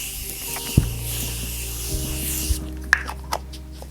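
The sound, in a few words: spraying Morphe Continuous Setting Spray on face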